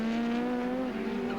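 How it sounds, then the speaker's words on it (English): A Ford Sierra race car at the 1990 Australian Touring Car Championship round at Mallala brakes hard and drops down to first gear for a tight right-hand corner, the engine note droning loud and continuous before dipping and shifting pitch. "On the brakes for the tight right-hander at the end of the back straight."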